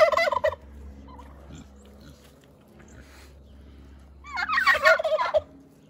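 Two loud bursts of rapid, warbling gobbles from a tom turkey and others, one at the start and one near the end, with low background rumble in between.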